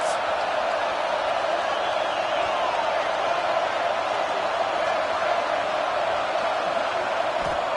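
A steady, loud stadium crowd roar from a college football video game, Texas versus Ole Miss, swells on a big third down and fills the whole stretch without a break.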